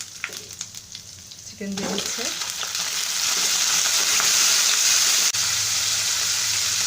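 Chicken added to a pan of lightly browned chopped ginger and garlic, bursting into a loud, steady sizzle after a few quiet clinks, with a brief spoken word near the start.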